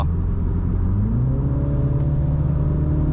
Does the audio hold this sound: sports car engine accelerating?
yes